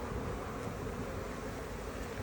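Honey bees on a hive frame during a hive split, a soft, steady, close buzzing hum with no voices.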